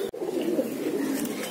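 Pigeons cooing softly in a loft, a low, continuous burbling murmur close by after a brief click at the start, with no speech.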